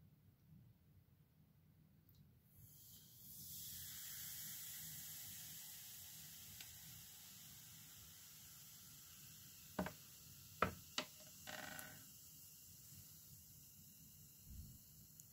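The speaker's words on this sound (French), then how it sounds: "Donc là, vous entendez la formation du dioxyde de carbone." Baking soda reacting with cider vinegar gives a faint, steady fizzing hiss as carbon dioxide forms, quiet and close, with a few small clicks and taps toward the end.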